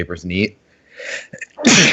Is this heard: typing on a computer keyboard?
no